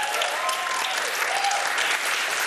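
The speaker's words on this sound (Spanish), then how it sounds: "Otro aplauso para mí, por favor" Studio audience applause on a television show, a steady, fairly loud wash of clapping throughout, with a faint voice woven into it.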